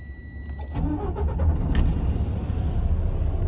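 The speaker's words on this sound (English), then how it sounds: "Now I'm gonna go ahead and engage in my clutch and turn my truck on." A truck's engine is started from the cab with the clutch engaged and the transmission in neutral: a brief clatter and crank, then the engine catches into a loud, steady low rumble that holds.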